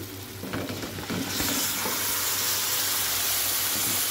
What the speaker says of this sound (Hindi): अब हम इसमें डालेंगे चिकन